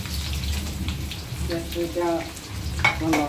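Onions frying in a pan for shahi paneer, a steady crackling sizzle running throughout with brief stirring clinks and a voice speaking softly over it.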